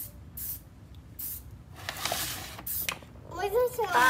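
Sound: spray paint can spraying

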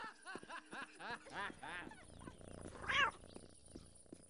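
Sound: cats meowing in video game Postal 2

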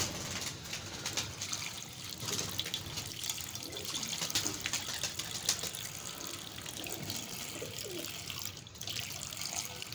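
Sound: water being poured

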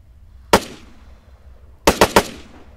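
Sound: gunfire from the CAR-95 rifle in video game Arma 3

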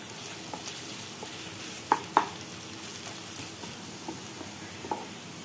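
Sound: chopped onions frying in oil until brown

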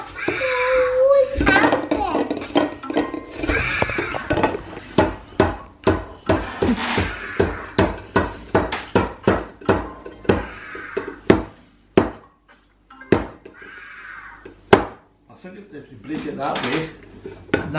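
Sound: child hitting wood with a toy hammer

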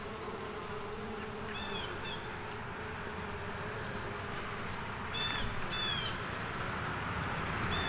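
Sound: bees buzzing on buckwheat flowers

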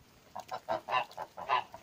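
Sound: domestic geese honking

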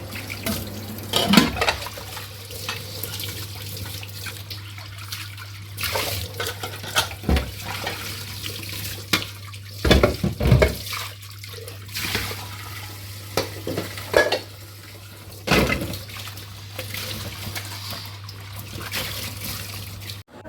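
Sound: washing dishes at the kitchen sink with running water

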